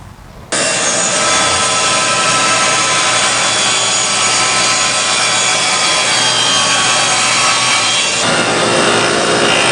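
A saw cuts a dado into wood for a cork bulletin board trim, a loud, steady roar that starts abruptly and runs without a break for about nine seconds, with no voices.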